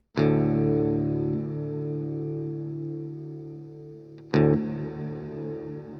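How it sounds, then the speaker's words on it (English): An electric guitar played through a Boss reverb pedal with the time turned all the way up rings out in two struck chords, each sustaining into a long, thick, slowly fading tail. "So when you put it all the way up, you're going to get a long-lasting, thick reverb."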